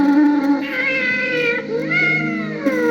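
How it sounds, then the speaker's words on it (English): Cats meow repeatedly as a played-in sound effect on a talk radio show, a loud continuous run of plaintive, wavering cries with no talk over them. "there's something about hearing those cats"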